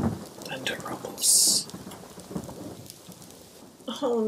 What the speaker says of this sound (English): Thunder rumbles.